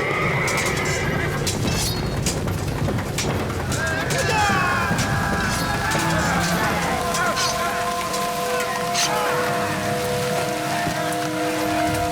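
Neighing and whinnying of small, swift horses pulling ancient British war chariots rise over a dense, steady wash of rain-like noise and rumble, with the calls sounding at moderate distance through most of the scene.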